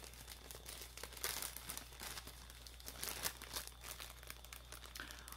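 Plastic wrapping of a Turkish delight package crinkling and rustling close by as kitchen shears cut it open, a continuous quiet crackle with small sharp snips and no talking.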